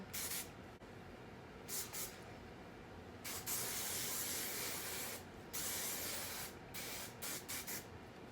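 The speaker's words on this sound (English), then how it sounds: "spraying all the curls on this side, all the curls on the other side" Hairspray hisses from a can onto curled hair in several quick bursts of varying length, close and soft, with brief pauses between sprays and no talk.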